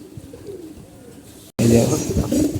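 Low pigeon cooing repeats close by, softer at first and then louder after a brief cut, with a voice briefly audible.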